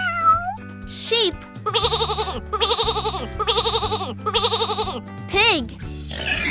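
A sheep gives four wavering, trembling bleats in a regular sequence, loud and near, framed by short whistle-like sweeps and a faint musical bed.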